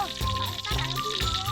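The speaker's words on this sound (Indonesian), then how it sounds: "Menggoreng udang memang tidak boleh lama teman" Shrimp frying in hot oil sizzle loudly and steadily nearby, with rhythmic bursts of clatter from stirring or tossing every half second, and music plays underneath.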